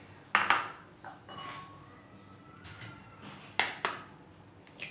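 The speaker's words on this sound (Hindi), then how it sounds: "अंडा हम एक एक करके अलग-अलग से बाउल में लेंगे।" Eggs cracked one at a time into a steel mixing bowl for homemade cake batter, heard as a few sharp, close taps and clinks in quick pairs with quiet gaps between, and no talking.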